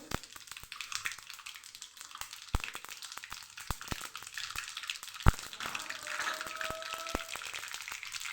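Mustard seeds and asafoetida sizzle in hot oil, with sharp scattered pops and crackles over a steady hiss.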